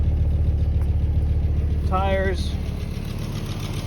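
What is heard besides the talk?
1990 Audi Coupe Quattro five-cylinder engine idling with exhaust leak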